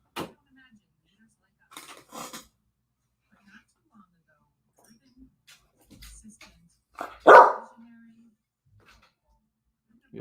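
A dog barks near the microphone, a few scattered yips and one loud sharp bark, with quiet room noise and brief sounds of movement between them.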